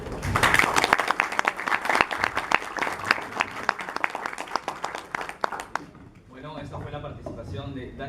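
Audience at a Spanish-language debate on physics and God applauds loudly for several seconds, dense clapping that thins out before a voice takes over and speaks.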